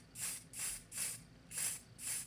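A spray can of foundation makeup lets out five short, even hissing bursts in a quick rhythm, faint and close, with no voices.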